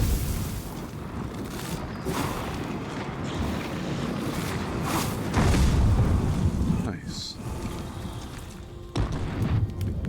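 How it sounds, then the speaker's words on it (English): Explosion in the video game Eternal Strands, a low, rumbling boom swelling midway through steady wind-like game ambience, with someone speaking over it. "That was a big explosion"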